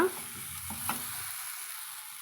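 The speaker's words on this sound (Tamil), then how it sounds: "ஒரு ரெண்டு நிமிஷம் நம்ம இது போல் வதக்கினோம்னா நம்மளுக்கு பாத்திரத்தில் ஒட்டாமல் சுருளை வதங்கி வந்துடுங்க" Pirandai (veld grape stems) sautéing in oil in a pan, a soft, steady sizzle with a couple of light stirring scrapes near the start, close and fairly quiet.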